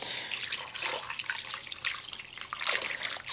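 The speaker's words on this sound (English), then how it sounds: "we're gonna pour this whole jar into there" Chicken bone broth pours from a jar into a pot in a steady, close splashing gush that swells and fades slightly as the liquid flows.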